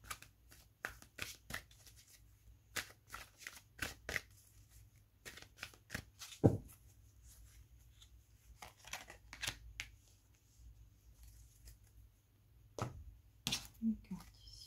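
Playing cards riffled and shuffled for a card reading, a series of quick crisp bursts separated by pauses, close and fairly quiet, with a louder snap midway.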